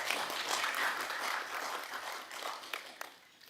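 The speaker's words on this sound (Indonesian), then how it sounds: "Mari kita tepuk tangan sekali lagi." Audience applause in a parliamentary hearing hall, a sustained wash of clapping at moderate level that thins out toward the end with a few louder isolated claps.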